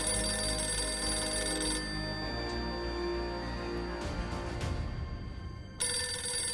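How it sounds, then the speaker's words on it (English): A telephone bell rings loudly in a steady electronic ring that fills the start, drops away briefly with some background rustle, then resumes near the end. "Pick up the phone."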